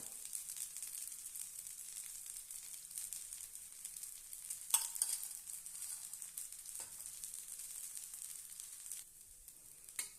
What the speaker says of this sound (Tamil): இந்த தோசைக்கு இப்போ நான் நெய் சேர்க்குறேன்